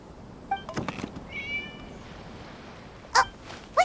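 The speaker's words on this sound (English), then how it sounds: "It was just a cat." A cat meows several times in Genshin Impact, short separate calls spread over a quiet background, the last two louder and closer.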